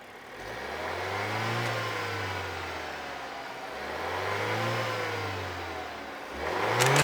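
A Renault Duster's engine revs up twice, each rev climbing and easing back down in a smooth, steady rise and fall, with a third rev starting at the end, close and fairly loud with no talking.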